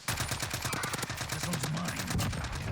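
Rapid automatic fire from an EM2 rifle in Call of Duty Warzone, a dense, evenly paced burst of loud, close shots running almost nonstop, with punchy low-end thumps under each round.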